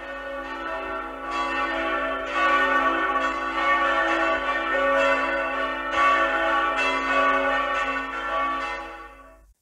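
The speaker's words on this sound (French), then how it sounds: "les cloches sonnent à toute volée." Church bells ringing in full peal, several bells struck in overlapping succession with rich sustained ringing that stays loud and continuous, no voices.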